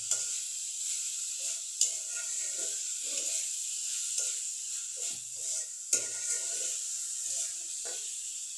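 Carrots and peas stirred with a spoon in a hot spiced pan, with a steady sizzle and a few sharp utensil scrapes against the pan.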